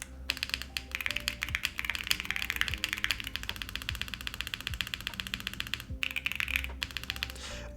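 Continuous fast typing on a Luminkey 65 mechanical keyboard with PBT keycaps, dense rapid clacks close up, with a few brief pauses and occasional heavier key thocks.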